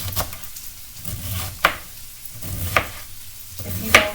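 Onions frying in butter in a pan for haluski, a soft steady sizzle close up, with a few sharp clinks of a utensil stirring at intervals.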